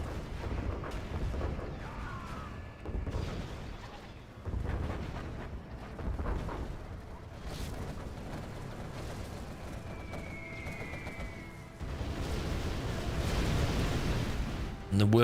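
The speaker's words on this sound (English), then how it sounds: "Carpet bomb coming through." Carpet bombing and artillery strikes from a massive Overlord army in a 1v1 strategy video game, a dense, continuous rumble of overlapping explosions and booms with swelling bursts, loud and steady throughout, and a voice talks over it.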